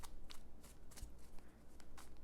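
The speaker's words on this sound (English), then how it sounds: "3 more shuffles and let's see" Tarot cards are shuffled by hand in a quiet room, giving a run of soft, rapid riffling bursts at an even rhythm with brief pauses between them, close to the listener.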